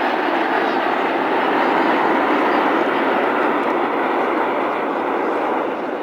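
RAF Red Arrows jets fly the whirlwind manoeuvre at an air festival in Bournemouth, producing a loud, continuous broadband jet roar that holds steady throughout.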